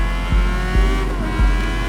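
A Honda CBR600RR sport motorcycle's exhaust roars close and loud on the road, with a steady engine drone punctuated by three sharp, evenly spaced bursts.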